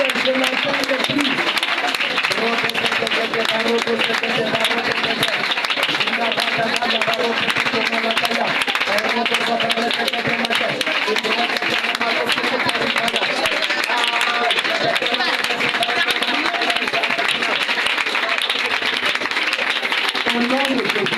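Continuous clapping and cheering from a church congregation during a prayer session, with a leader's voice praying loudly over the steady applause.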